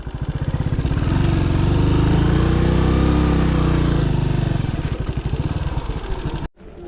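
A motorcycle engine runs at a parking area by a monastery in Bhutan, a loud, close, steady rumbling drone that holds for several seconds before stopping abruptly.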